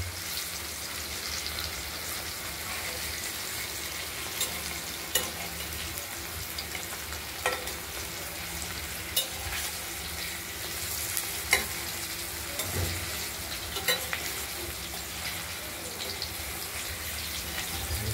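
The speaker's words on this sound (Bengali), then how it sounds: "একটু ধীরে ধীরেই ভাজতে হবে" Paneer and potato pieces fry slowly in a pan, giving a steady low sizzle with occasional stirring clicks and scrapes across the whole stretch. No one speaks.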